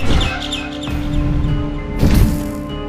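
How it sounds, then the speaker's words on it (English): Chirping bird calls from the video game Garten of BanBan 6 sound over a dense, noisy game soundscape, with a louder crashing surge near the end. "Bird up."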